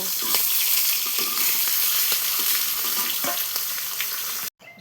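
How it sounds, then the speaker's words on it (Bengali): Fish heads fry in oil in a pan, giving a steady, bright sizzle with occasional crackles and stirring noises that continue close up until the sound cuts off near the end. "আমি আবার এই যে ভাজে নিচ্ছি মাছের মাথা তো ভালো করে ভাজে নেব"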